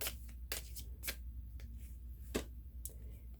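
A deck of cards being shuffled, heard as several quick, soft riffling bursts close by in an otherwise quiet room, with no talking.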